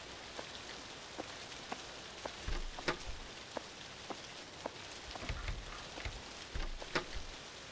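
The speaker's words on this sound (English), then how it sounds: "there's no one here, but it's raining now." Steady rain falls in the indie horror game The Caregiver, a soft constant patter with scattered sharper drops and brief low thumps, heard alone without speech.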